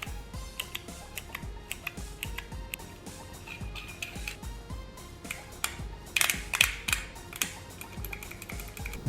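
Samducksa SDB-202 arcade stick buttons with mechanical microswitches click sharply and repeatedly at close range, in quick irregular bursts of presses with no talking.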